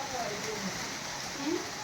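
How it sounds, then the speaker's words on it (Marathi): Unseasonal rain falling steadily outdoors, a dense even hiss of drops close by with a few brief faint sounds over it, heard alone. "पाऊस चालू झालाय पाहता आता"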